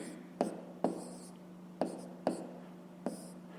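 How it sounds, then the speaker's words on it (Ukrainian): A pen on paper writes out a fraction in a math exercise, giving five sharp scratchy strokes spaced roughly half a second to a second apart, close and distinct over a faint steady hum. "Записуємо тоді дріб"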